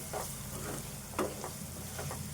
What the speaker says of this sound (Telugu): ఒక్క చెంచా అల్లము వెల్లుల్లి పేస్టు ఇది కూడా వేపుకోవాలి మనం ఇట్లా కలుపుకుంటే ఇది కూడా వేగుతుంది